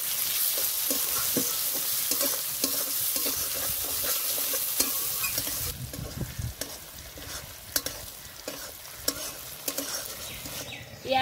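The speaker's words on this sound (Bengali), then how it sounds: "পেঁয়াজ আর টমেটোটা ভালো করে ভেজে নেব।" Chopped onion and tomato fry in a pan with a steady crackling sizzle, broken by repeated scraping stirs of a spatula; the hiss thins slightly partway through while the stirring goes on, with no talk.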